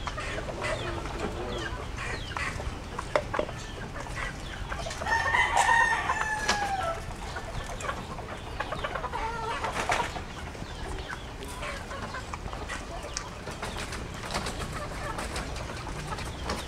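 Free-ranging chickens in a spacious backyard yard cluck softly and steadily while a rooster lets out a clear crow near the middle, with scattered clucks after.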